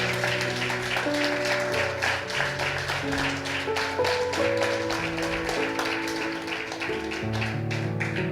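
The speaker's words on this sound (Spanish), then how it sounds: "Dele palmas al Señor." A church congregation claps together for the Lord, a steady stream of many hands tapping in rhythm over sustained music tones, moderately loud throughout.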